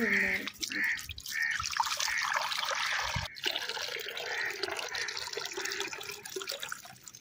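Water dripping and trickling at a mud house, with irregular close drops and a light running-water wash continuing throughout, no talking.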